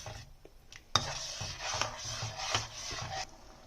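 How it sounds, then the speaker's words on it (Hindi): Yogurt being stirred into a vegetable gravy in a pot for a shahi veg handi, with a steady scraping and rubbing of a spoon against the pan, a sharp clink near the start, then continuous close mixing. "दही को हम इसमें अच्छे से मिक्स करेंगे और ग्रेवी में अच्छे से पकाएंगे"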